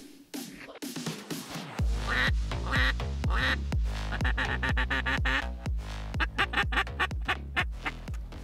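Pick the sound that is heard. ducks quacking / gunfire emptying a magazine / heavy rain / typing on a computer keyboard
ducks quacking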